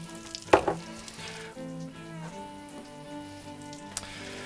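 Fish fingers sizzle in a frying pan with a steady crackling hiss, a sharp clatter early on, a few pops and a faint tick near the end, close and alone without talk.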